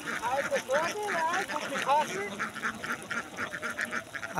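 Ducks on a duck farm quack repeatedly in a noisy overlapping flock, close and continuous, with someone talking over them.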